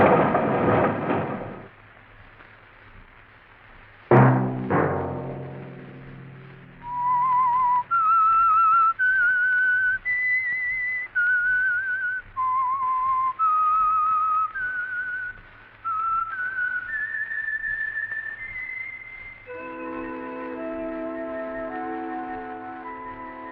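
A clear whistled theme melody of sustained, wavering notes from a radio mystery drama, The Whistler, plays over a low drone, preceded by a sharp crash and a deep booming hit.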